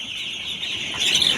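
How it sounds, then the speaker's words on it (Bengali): Sonali chicken chicks at a poultry farm during beak trimming, a steady high-pitched chorus of peeping that swells louder near the end, with no talk. "আছে সোনালি সোনালি মুরগির বাচ্চা"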